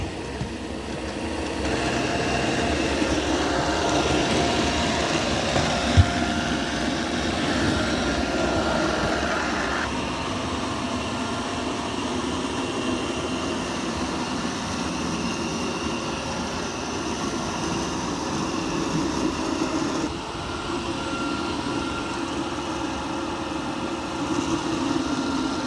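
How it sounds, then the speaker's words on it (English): A eufy robot vacuum and mop combo cleans a muddy floor, vacuuming and mopping together. Its steady, fairly loud motor whir and brushing hum continue unbroken with only small shifts in tone. "so it's mopping the floor. There's the first mud, it did a good job. And it's vacuuming at the same time."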